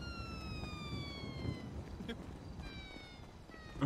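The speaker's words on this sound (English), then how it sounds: "what kind of police sound is that?" A warbling, cat-like police siren from the game GTA (NoPixel roleplay) sweeps in two downward-gliding bursts, moderately loud over a noisy background during roofing pranks, with no talk.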